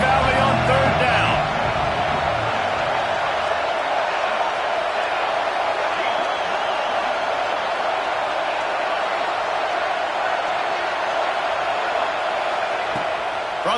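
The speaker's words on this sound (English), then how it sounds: "Here comes the noise from this big crowd in Happy Valley on 3rd down." Big football stadium crowd in Happy Valley roaring on third down, a loud, sustained wash of massed noise that holds steady throughout, with a brief burst of other sound at the start.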